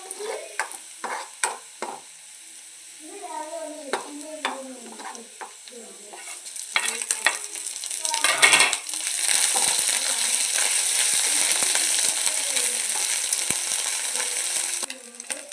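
Ingredients for a tender mango pickle are stirred in a hot pan. Scraping stirs come first, then a loud, steady sizzle of frying fills the rest, close and without talk.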